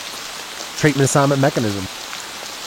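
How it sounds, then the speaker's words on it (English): Rain falling outside forms a constant, even hiss beneath a person speaking close to the microphone. "it's raining, so it'll be kind of loud."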